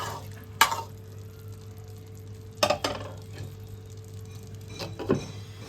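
A spoon stirs a potato, pointed gourd and pumpkin curry in a pot with a little water, making a few separate scrapes and knocks over a quiet simmering background hum, near and without speech.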